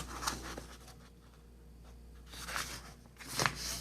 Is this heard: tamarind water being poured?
no